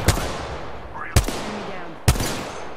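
Gunfire in the video game Apex Legends: three sharp, loud shots, evenly spaced about a second apart, each with a short echoing tail.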